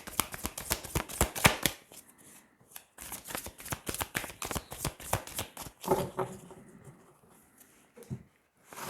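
Tarot cards are shuffled by hand for a reading, rapid bursts of crisp riffling clicks in quick repeated runs with short pauses between, close and dry, no talking over them.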